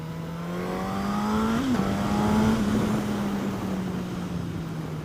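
Suzuki GSX-S1000 naked motorcycle accelerating hard, its four-cylinder engine note rising steadily as a loud, close whine with a quick gear change partway through, over wind rush.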